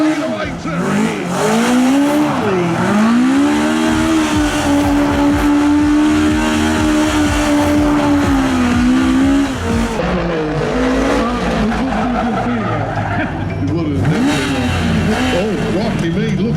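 A car engine roars continuously at high revs while tires squeal and skid through long sustained donut spins at a motorsport show, loud and close, with a brief dip midway.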